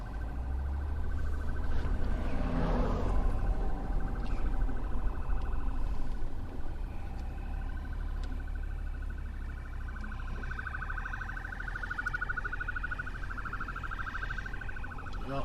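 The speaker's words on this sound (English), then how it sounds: "I hear a siren." Emergency vehicle siren wailing behind a car stuck in heavy traffic, a faint rising and falling tone that grows clearer toward the end, heard from inside the car over low road rumble.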